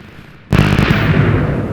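A TNT cannon in a block-building video game goes off as a single sudden loud blast that rolls on as a sustained rumble, with no talking.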